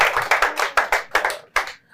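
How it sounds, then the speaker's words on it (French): A few people clapping on a Beninese talk show, about nine distinct close claps in an uneven rhythm, each sharp and separate, fading out at the end. "On applaudit Baza"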